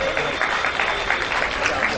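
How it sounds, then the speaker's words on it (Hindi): An indoor religious gathering breaks into steady, moderately loud clapping to welcome a member, with dense overlapping claps sustained throughout. "आप ताली बजा करके इनका स्वागत कीजिए।"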